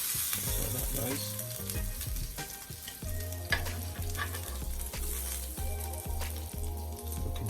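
Pork chops for barbecue pork sizzle loudly in a pan, a steady close crackle broken by a series of regular clunks from the cookware.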